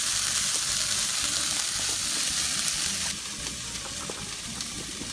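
Pasta in a pot of boiling water is stirred, with a steady bubbling hiss up close that drops slightly quieter partway through.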